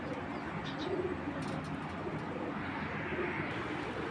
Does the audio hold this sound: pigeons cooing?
yes